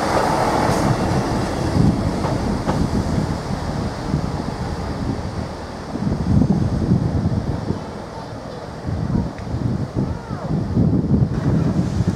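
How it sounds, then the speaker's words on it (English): Train unit 158847 pulls into platform 3 at Ely station, bound for Liverpool Lime Street: a rumbling, rolling approach under gusty wind buffeting the microphone, loud and close throughout. "One 58 847 is now arriving to platform 3"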